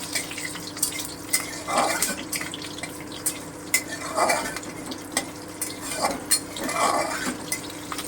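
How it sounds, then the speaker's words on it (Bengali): A spatula stirs tangra fish curry in a pan with nigella seeds and green chilli, making repeated scraping sweeps and light metal clinks over a quiet background sizzle. "তারপরে আমি কাঁচা লঙ্কাটাও দিয়ে দিলাম একটু নেড়ে নেবো"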